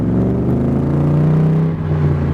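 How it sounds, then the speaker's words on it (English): A 1965 Shelby Cobra replica drives under power, its engine drone steady and loud with a tonal supercharger whine layered over it that dips briefly near the end. "Hear that whine of that supercharger"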